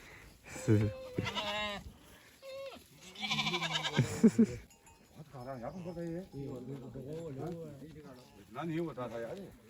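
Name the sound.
goats bleating while being dewormed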